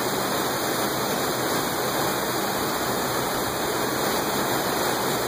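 Water from a wastewater effluent sampler bubbling and rushing back out as it purges, a steady, broad hiss-like gush that continues unbroken throughout, with no speech.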